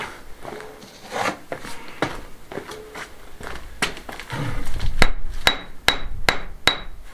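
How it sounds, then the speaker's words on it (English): A hammer taps repeatedly while renovating a 150-year-old finca in Spain, sharp close strikes spaced about half a second apart, getting crisper and louder toward the end. "get the hammer and give him a tap."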